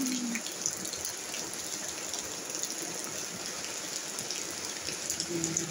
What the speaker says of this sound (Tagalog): Lalong lumakas ang ulan.